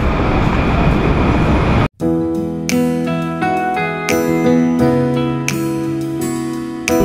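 A train heading towards Central in Australia: steady rumbling carriage noise, a sudden brief cut, then a run of bright chiming tones ringing out loudly over the train's hum.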